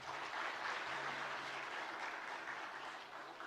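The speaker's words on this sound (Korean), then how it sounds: "수고한 우리 미디어 팀에게 박수 한번 하겠습니다" Warm applause from a church congregation for the media team, a steady dense wash of clapping from many hands that holds even throughout and tapers slightly at the end.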